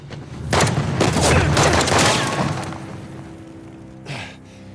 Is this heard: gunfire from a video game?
yes